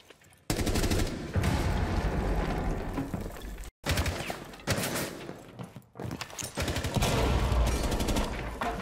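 Rapid bursts of automatic gunfire from a Rainbow Six Siege match, loud and dense, in three sustained volleys separated by brief silent breaks.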